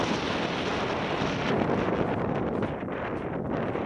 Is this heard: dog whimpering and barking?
no